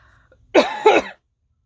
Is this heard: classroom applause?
no